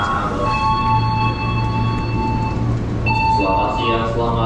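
A passenger train ride in Jakarta, with a loud steady interior rumble and tonal whines as the train moves, heard from inside the carriage.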